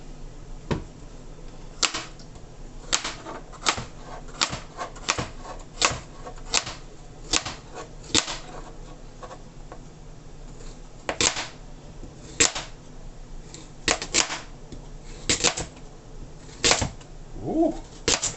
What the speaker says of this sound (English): I'll just probably cut up what I want